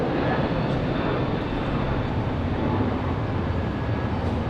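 Frontier Airlines jet applying power to go around in gusty rain at Raleigh-Durham, a loud, dense engine roar sustained throughout, close and unbroken.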